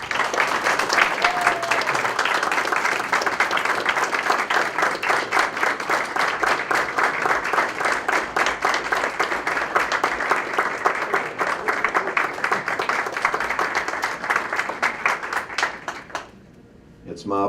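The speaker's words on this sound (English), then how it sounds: "I'd love to give another round of applause for our 2015 inductees to the CTE Wall of" A crowd claps steadily and loudly for the 2015 inductees to the Career and Technical Education Wall of Honor at Pulaski County High School, a dense unbroken applause that fades out near the end.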